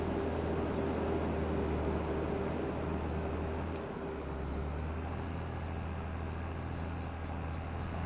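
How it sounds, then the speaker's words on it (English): A grain bin aeration fan roars loudly and steadily like a distant jet, a continuous broadband whoosh with a low hum and no voices. "I guess technically it wouldn't be considered a dryer. It's just a fan or an aerator."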